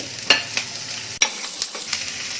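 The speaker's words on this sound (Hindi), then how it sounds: "अब इसमें ये एक मीडियम साइज का बारीक कटा हुआ प्याज डालेंगे और इसे हल्का गुलाबी करेंगे।" Finely chopped medium onion goes into a pan of crackling cumin over low-medium heat, giving a soft steady sizzle broken by a few sharp clicks and scrapes of stirring, with no talk.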